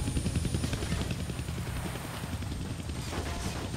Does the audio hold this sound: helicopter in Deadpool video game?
yes